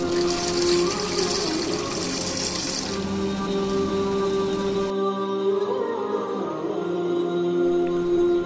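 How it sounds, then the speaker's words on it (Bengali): Water runs steadily over 100 grams of red lentils being washed in a kitchen. The flow is loud, continuous and close, with a hissing rush that thins partway through. There is no talk. "প্রথমে 100 গ্রাম মুসুর ডাল ভালো মতো ধৌত করে 20 মিনিট"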